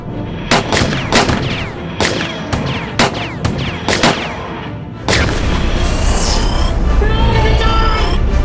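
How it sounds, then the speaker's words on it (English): Weapons open fire in a battle from a Doctor Who sci-fi fan film: a run of sharp, loud separate shots over about five seconds, then a dense, sustained roar of fire and blasts that fills the rest. "Might as well try to bring him down. Open fire."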